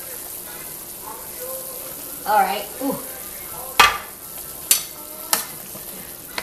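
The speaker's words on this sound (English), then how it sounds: "My soup's been boiling for about 10 minutes" Korean radish soup (moogook) with turnip greens boiling in a pot of about eight cups of water on high heat, giving a steady bubbling hiss with a few sharp clinks of utensils against the pot. A voice speaks briefly.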